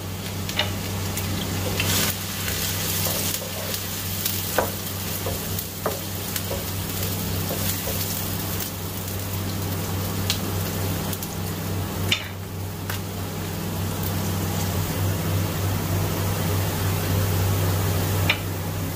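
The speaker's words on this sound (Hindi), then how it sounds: "चॉप प्याज को मैं थोड़ा सा लाइट ब्राउन कर लूंगा" Half-measure of chopped medium onions frying in hot oil in a pan, heading toward light brown for an aloo palak sabzi; a steady close sizzle runs throughout, broken by occasional scraping stirs and clicks, with no talking.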